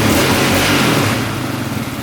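A used quad's engine revs out hard, loud and close, then eases slightly while holding a steady, rough drone through the end.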